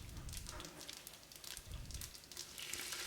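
Black peppercorns, cloves, cumin, coriander seeds, star anise and mustard seeds sizzling and crackling in a hot pan with ginger and curry leaves, a steady close frying hiss with scattered pops throughout.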